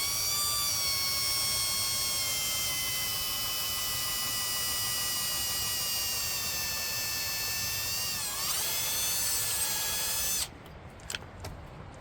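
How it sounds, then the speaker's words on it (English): A 1/8 inch drill bit bores steadily through an awning mount, a loud, sustained high-pitched electric drill whine that dips in pitch near the end before stopping abruptly, leaving a few faint clicks. "I'm using a 1/8 inch diameter drill bit."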